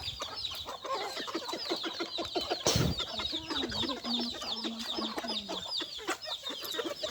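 Many farm chickens cluck and squawk together nearby in a steady, busy chorus, with one brief louder burst of noise partway through.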